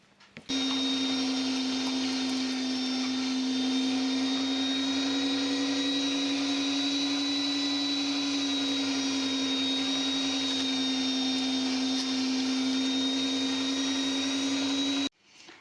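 An electric meat grinder minces chicken fillet and onion, its motor switching on to a loud, steady whirring hum with a high whine that runs unbroken for about fifteen seconds before cutting off.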